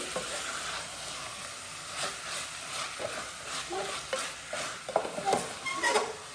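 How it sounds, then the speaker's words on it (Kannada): Chicken pieces stirred in a pan over high flame, a steady frying sizzle with scraping spoon strokes and a few clinks toward the end. "ಸ್ವಲ್ಪ ಹೈ ಫ್ಲೇಮಲ್ಲೇ ಇಟ್ಟು ಚೆನ್ನಾಗಿ ತಿರುಗಿಸಿ ಇದನ್ನು ಈ ರೀತಿ ಕ್ಲೀನಾಗಿ ಮಿಕ್ಸ್ ಮಾಡಿಬಿಡಿ"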